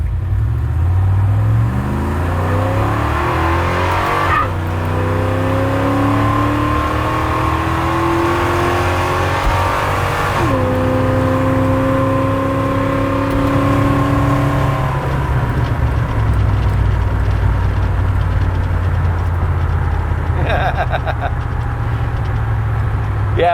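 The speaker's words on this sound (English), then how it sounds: "when it grabs second gears and the gear and the tires chirp, I like that" A car fitted with a Monster transmission accelerates hard, the engine note climbing and then dropping at each of several gear changes, loud and close throughout a steady drive.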